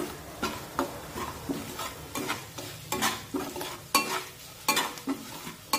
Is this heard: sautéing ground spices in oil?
yes